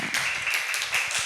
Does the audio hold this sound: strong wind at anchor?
no